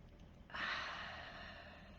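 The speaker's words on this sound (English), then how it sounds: "Let's take a deep breath first. And relax, let it out slowly." Workshop participants exhale a deep breath together, a soft, breathy rush that starts suddenly and fades gently over a second and a half, quiet and without talk.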